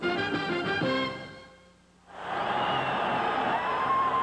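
Football stadium crowd at a Monday night Steelers–Chargers game: an announcer-style voice at first, a brief lull, then a loud, sustained roar of cheering fans that swells and holds steady.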